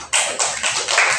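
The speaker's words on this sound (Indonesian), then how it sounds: "tepuk tangan untuk kita." A fifth-grade class at an Indonesian elementary school bursts into brief, dense applause, many hands clapping together in a loud, close flurry with no talk over it.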